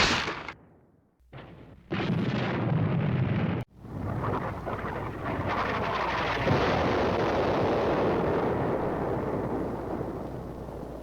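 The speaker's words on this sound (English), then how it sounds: "Fireworks? But it's not bonfire night," Fireworks exploding in the ZX Spectrum game Santa's Dilemma: harsh, loud computer-generated noise bursts, with a short blast, a pause and then a long, sustained roaring crackle, with no talking.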